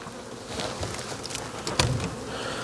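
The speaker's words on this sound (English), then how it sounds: "There's still bees in there" Bees buzzing around a hive during a cutout, a busy hum of many insects with individual bees passing close, including one loud near pass.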